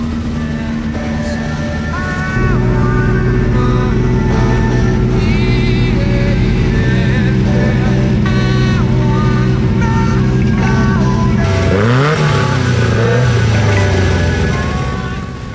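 Off-road race cars idle and rev together on a damp dirt track at Colo Park during the 2002 NSW Off Road Championship. Engines drone steadily and loudly, and one swells and falls sharply near the end.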